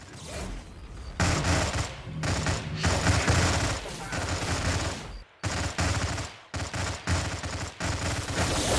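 Rapid bursts of defense turret fire from a Stargate Empire at War battle crackle loudly and almost continuously, broken by brief gaps.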